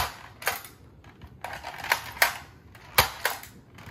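A toy gun fires in a handful of sharp, close snapping clicks spaced irregularly over a few seconds, with quiet mechanical handling noise in between.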